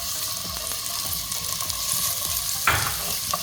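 Chopped onion sautéing in ghee in a pan as filling for potato samosas, giving a steady close sizzle with light stirring taps and one sharper scrape near the end.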